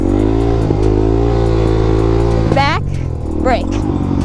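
A Suzuki DRZ400SM supermoto runs with a loud, steady engine drone during wheelie practice, then its throttle is blipped into two sharp, rising revs close by.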